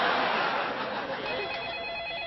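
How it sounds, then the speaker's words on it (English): A mobile phone ringing in a steady, continuous electronic trill, fairly loud and close, with a faint voice briefly beneath it. "That's my phone!"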